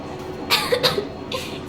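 Child character Nastia coughing in Metro Exodus, a few short, close coughs in quick succession followed by a softer breathy one, with faint background ambience.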